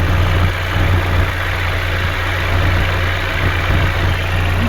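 A Chevy Equinox engine with an oil-burning problem runs steadily at about 2,000 RPM. It gives a loud, constant drone with a strong low hum and no speech.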